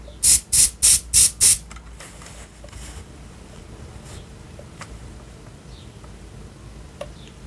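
Five quick, evenly spaced hisses of scent spray burst close in front of a device, followed by quiet room tone with faint ticks.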